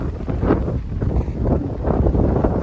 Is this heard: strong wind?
yes